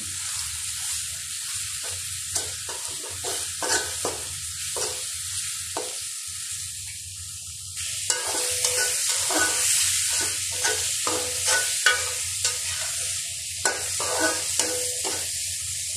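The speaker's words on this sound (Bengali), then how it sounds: "এখানে মাছ ভাজি করতেছি" Mrigal fish sizzles steadily in a hot pan, crackling and spitting throughout, with intermittent scraping stirs; the frying grows brighter and louder midway through.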